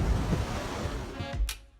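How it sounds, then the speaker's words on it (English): Wind and waves surround a sailboat at sea, a loud, continuous roar of gusts and surging water with low thumps of hull slap, then a brief bright splash near the end before it eases off. "wind and waves,"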